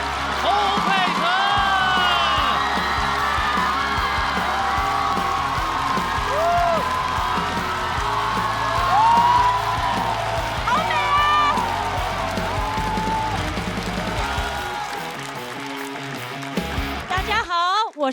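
Studio audience on a Chinese stand-up comedy competition show applauding and cheering to welcome the host onto the stage, a loud sustained roar of clapping and whoops that tapers off near the end, with a voice over it.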